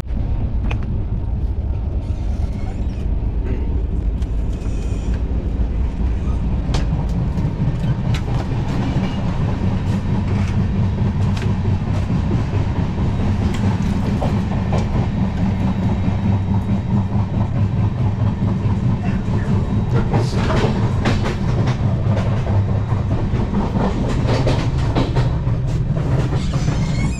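The 12926 Paschim Superfast Express on Indian Railways rolls along with a loud, continuous rumble and rhythmic clickety-clack of wheels over rail joints, with faint squeals and rattles throughout.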